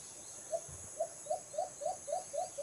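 A pet bird named Civic sings a run of about eight quick, clear chirps at an even rhythm, each note short and rising, close to the microphone over a faint background hum.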